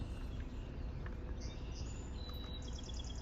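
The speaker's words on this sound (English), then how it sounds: "Oh, I can hear the red-winged blackbirds." Outdoor birdsong of red-winged blackbirds, high whistled calls and trills rising over a steady background hum, moderately distant.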